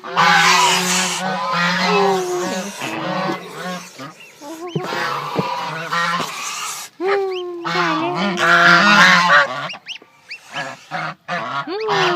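One-month-old goslings honk repeatedly in a loud, close chorus of squeaky, wavering calls, with short pauses between bursts.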